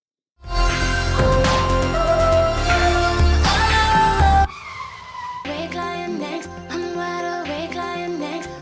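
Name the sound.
car sound effect in song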